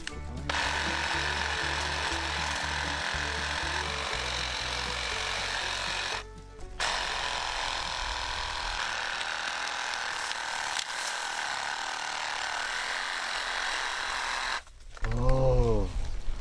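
A reciprocating saw cuts thin branches while clearing dense overgrowth around a grave site: a loud, steady mechanical buzz runs almost continuously, briefly stopping about a third of the way through, with a short rattling burst at the end.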